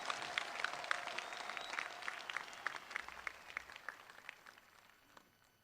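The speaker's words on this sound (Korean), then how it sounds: "알았으면 크게 박수해요. 크게." An audience applauding loudly, a dense burst of clapping that gradually thins and fades over several seconds, with no speech on top.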